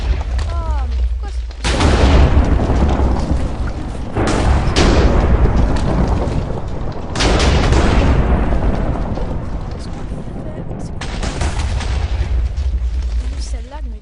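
Repeated heavy booms and blasts in bursts, loud and dense with a low rumble, under game-style effects with some voice activity.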